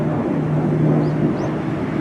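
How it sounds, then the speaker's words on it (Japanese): A steady, low droning roar of an airplane passing overhead during a morning walk in Machida, Tokyo, fills the air, with faint bird chirps briefly heard above it. "飛行機が飛んでます。"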